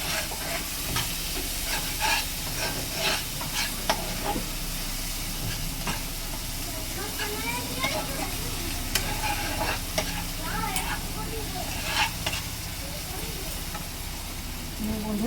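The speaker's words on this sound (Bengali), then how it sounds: "এই যে বন্ধুরা আমার তেল ছেড়ে গেছে, মশলাটা আমার কষানো হয়ে গেছে।" Spice paste sizzles and fries in oil while being stirred, a steady close hiss with scraping stir strokes, part of cooking Bengali shukto, with a voice faintly audible at times.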